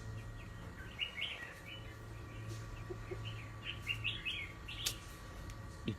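A red-whiskered bulbul sings in a home garden, bursts of bright whistled phrases repeating over steady background hum, fairly faint and somewhat distant.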